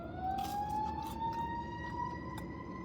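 A police car siren wails near a gas station beside a McDonald's, one steady rising tone heard at some distance over constant traffic rumble.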